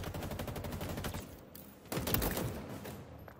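Rapid gunfire in Halo Infinite shoots at targets. A fast, steady stream of shots pauses briefly, then resumes with a heavier burst. The shots are loud and close, with no talking.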